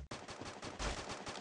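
Dense, rapid gunfire from the video game Free Fire rattles without a break for over a second, loud and continuous like machine-gun bursts.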